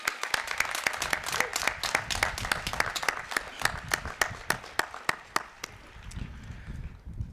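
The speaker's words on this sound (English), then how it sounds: "join me in giving all of them once again a round of" Audience at a university graduate commencement ceremony clapping, a steady patter of many hands with sharp individual claps standing out nearby, gradually thinning toward the end.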